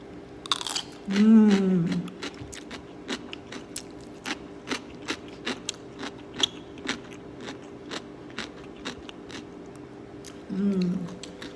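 Crunchy homemade Korean pickled white radish, two months old, being bitten and chewed up close: a long series of sharp, evenly spaced crisp crunches, with brief murmured vocal sounds at the start and end.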